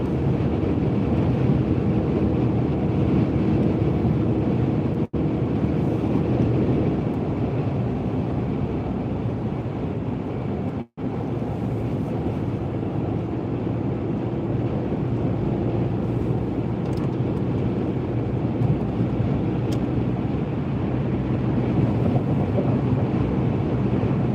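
Strong wind buffeting a car driving on a snowy mountain road, a steady loud rushing roar with low rumble that continues without letup, one brief dropout partway through.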